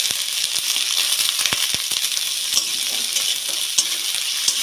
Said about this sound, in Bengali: এটাও ভালো করে ভেজে নেব।